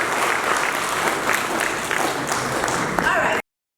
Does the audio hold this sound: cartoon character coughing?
no